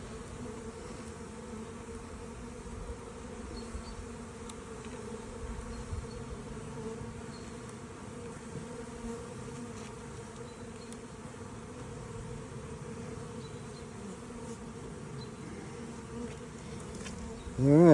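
Honeybees buzz continuously at an open hive with brood inside, a steady, fairly quiet droning swarm close by.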